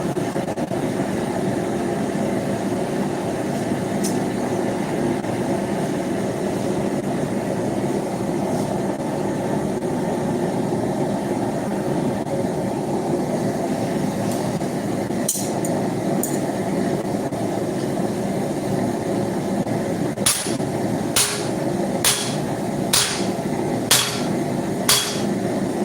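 Hot steel is hammer-forged while the eye of a spike tomahawk is drifted, with a continuous loud roar of the forge running throughout, then a quick series of sharp ringing hammer strikes near the end.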